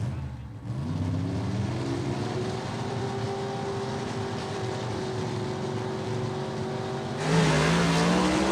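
Gasser drag race cars with 358 cubic inch engines roar down a dragway in round two, a sustained loud engine drone with rising harmonic pitch as they accelerate away, then a louder surge near the end.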